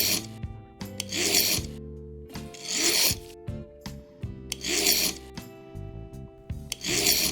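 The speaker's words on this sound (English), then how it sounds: "with a coarse file, run over the end of the taper pin while turning the pin vise in your fingers." A coarse file rasps across the end of a clock taper pin held in a pin vise, loud close strokes repeating in a steady rhythm of about four passes with brief pauses between.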